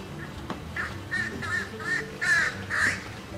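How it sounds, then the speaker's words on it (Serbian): Crows cawing outdoors, about six harsh calls in an uneven series, growing louder toward the end, with a faint background hum and a soft knock near the start. "ove vrane još uvijek se deru"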